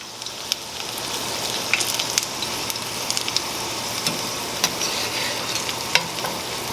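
Garlic and chilies fry in a pan with a steady, busy sizzle and crackle, sharp little pops and spits scattered through it, all close by and without talk.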